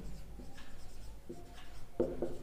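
Pen writing on paper, soft scratchy strokes in short bursts with brief pauses between them, close and quiet, with no speech.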